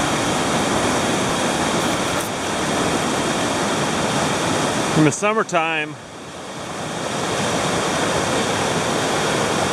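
Creek water flows past a calm, deep pool in a continuous loud broadband rush, briefly interrupted by a short spoken phrase near the middle.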